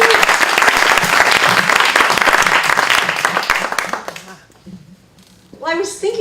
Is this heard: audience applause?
yes